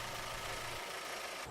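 A Suzuki Forenza car engine idles during an oil flush with cleaning solvent in the oil. It gives a faint, steady low rumble, and the deeper throb drops away partway through.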